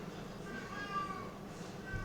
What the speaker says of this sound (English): my cat is screaming in the background